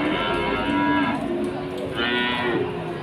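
Cattle at the Wirosari cattle market in Grobogan low loudly twice, close by, over a steady crowded market din.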